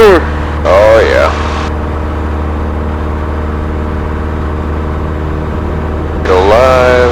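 A light aircraft engine runs at full power through its takeoff roll near Madison, giving a loud, steady droning hum. Voices talk over it at the start and again near the end.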